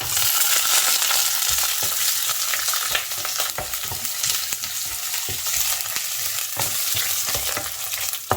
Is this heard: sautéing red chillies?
yes